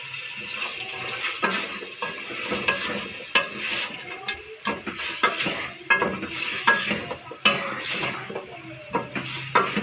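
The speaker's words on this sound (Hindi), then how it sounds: "ऐसे इसको आलू को साथ मिक्स, थोड़ा सा मसाले के साथ मिक्स करके इसके अंदर हम गाजरें डाल देंगे।" A spoon scrapes and clatters in a pan as carrots are stirred into potatoes and spices, with irregular metallic knocks over a soft background sizzle.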